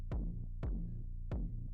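Three evenly spaced kick drum hits overdriven through the Fruity Clipper plugin, each a sharp boomy thump with a short flattened, distorted tail, loud and alone.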